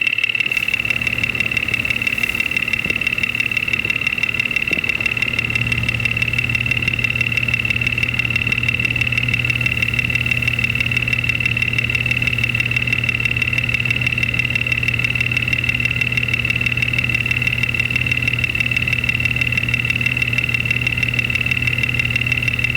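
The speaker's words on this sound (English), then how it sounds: "We're going to pull the number 5 spark plug wire off to take the load off that cylinder and see if that has an impact on noise." A car engine idles steadily with its number 5 spark plug wire pulled, a continuous close hum with a high whine running throughout and no talking.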